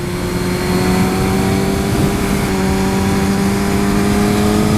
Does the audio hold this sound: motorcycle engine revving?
yes